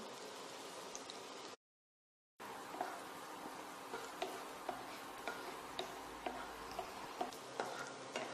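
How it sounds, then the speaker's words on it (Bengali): Chopped onions fry in a pan toward golden brown, giving a steady close sizzle broken by a short silent gap and punctuated by light ticking stirs and scrapes. "এবার পেঁয়াজটা গোল্ডেন ব্রাউন করে ভাজতে হবে"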